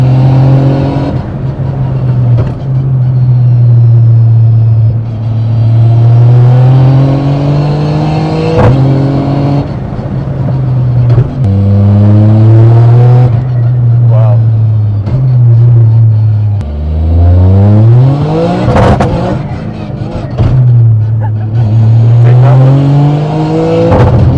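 A Toyota GR Yaris fitted with a sequential gearbox accelerates hard from inside the cabin, its engine droning loudly as it climbs through the revs, with quick gear shifts that briefly drop the pitch before it rises again.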